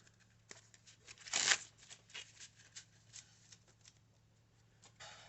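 Quiet riffling and tapping of cards being shuffled by hand, one louder burst of riffling followed by softer light patters, close and faint.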